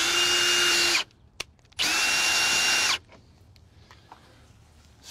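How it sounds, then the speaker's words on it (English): A power drill fitted with a 3/4-inch socket adapter cranks a Lippert quick tongue jack on a trailer, whining loudly in two bursts of about a second each with a short pause between, then stopping. "Flip the handle over, expose the nut, got a 3/4-inch socket, and our adapter for the drill."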